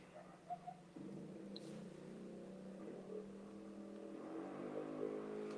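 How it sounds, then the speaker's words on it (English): A moped drones past in the 1964 film Fistful of Dollars, a faint, steady buzzing engine hum that swells slightly toward the end, with no talking. "guy going by on a fucking moped"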